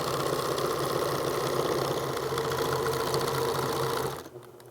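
A sewing machine runs a seam on a T-shirt pillow, a close, steady, loud whir that cuts off abruptly near the end.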